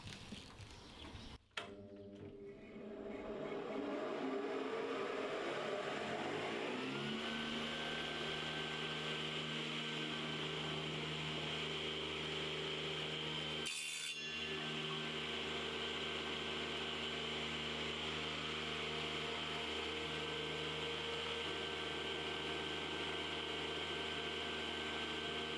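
A woodworking machine runs steadily with a loud, sustained whine and hum that spins up after a sharp click, with a brief burst of cutting partway through as it cuts wooden slats to size.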